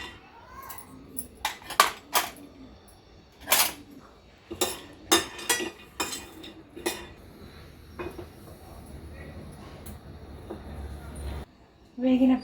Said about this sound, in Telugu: తర్వాత పల్లీలు వేపుకోవాలి.